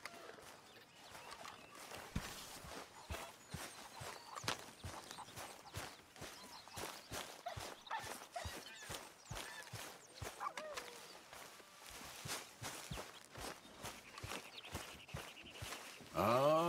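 Horse hooves walking in Red Dead Redemption 2, a steady run of soft, rhythmic clip-clop thuds at moderate distance, faint against a quiet ambient background.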